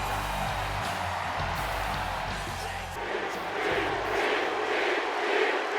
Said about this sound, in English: You hear the crowd yeeting in support for Jey.